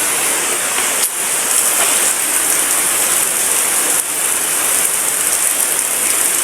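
Steady rain pouring down outdoors, a dense, even hiss of drops on surfaces that holds constant throughout, close and fairly loud with no voices.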